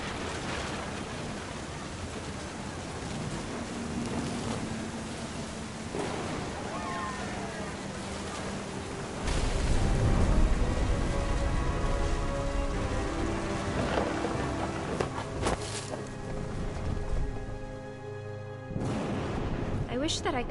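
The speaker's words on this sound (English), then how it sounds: "The thunder sounded much too close and full of angry power." Steady rain pours in the video game What Remains of Edith Finch, with a heavy, close roll of thunder swelling midway and lingering under the downpour.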